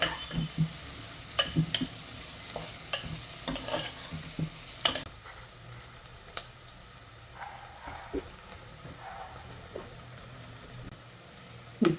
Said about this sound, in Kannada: ಬೆಳ್ಳುಳ್ಳಿ ಹಾಕ್ತಿದ್ದೀನಿ